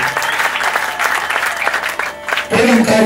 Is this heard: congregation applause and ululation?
yes